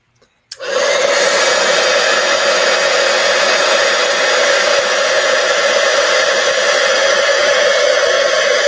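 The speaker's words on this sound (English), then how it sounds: "And now we're going to heat emboss this one." Heat embossing tool switched on with a click and then blowing steadily and loudly as it melts gold embossing powder on a card, an unbroken whooshing fan drone with a hum and no talking.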